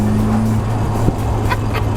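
Cosworth P100 engine pulling in fourth gear, a steady, loud, close drone with a constant low hum and a brief bump midway, heard from inside the car.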